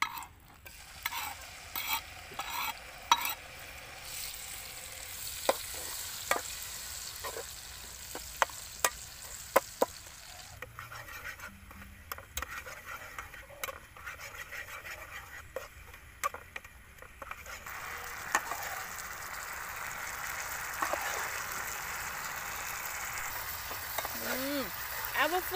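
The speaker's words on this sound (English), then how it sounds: "Then we add our fish pasta that we already merged ingredient. So now we start to fry it." Fish paste mixed with other ingredients fries in a pan, a soft steady sizzle broken by frequent clicks and scrapes of stirring, close by and fairly quiet, with a few faint voice sounds now and then.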